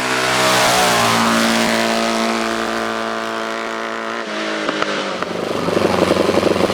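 A J&R Formula 3 racing car drives up a hillclimb, its engine loud and revving with climbing pitch before easing off into a rougher, rattling idle with a few sharp clicks near the end.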